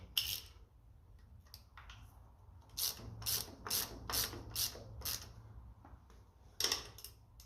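A socket wrench ratchets in quick bursts of sharp clicking while working on the rear end of a 1955 Ferguson TED tractor running on TVO, close and fairly quiet, with pauses between strokes and no talking.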